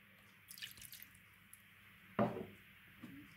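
Water being poured into a pan for a mirror glaze, a short splashing pour with a few light drips and clinks in a quiet kitchen.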